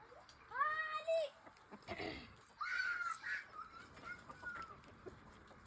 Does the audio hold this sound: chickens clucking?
yes